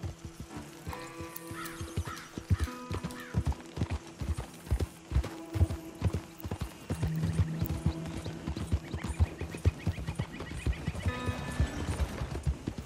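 Horse hooves clip-clop in a steady rhythmic gait in the video game Red Dead Redemption 2, with occasional neighs, a distant crow call and light ambient game sounds.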